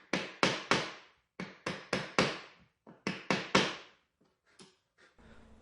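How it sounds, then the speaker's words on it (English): Sharp mallet blows on a chisel squaring hinge mortise corners in wood, arriving in quick bursts of three or four crisp strikes separated by short pauses, close and clear with no talking. "I used the template again to establish the corners with a chisel"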